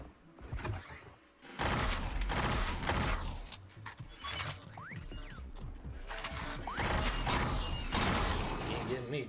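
Gunfire in the video game Sweet Surrender, rapid bursts of shots and mechanical clatter over a dense, busy game soundscape, with a voice speaking briefly.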